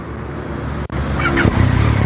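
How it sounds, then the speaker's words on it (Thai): A 2019 Yamaha MT-09 motorcycle with an aftermarket exhaust idles steadily with a deep, throaty exhaust rumble, briefly cutting out once before continuing at a loud, close level. "เดี๋ยวมาฟังเสียงท่อคันนี้กันดีกว่า"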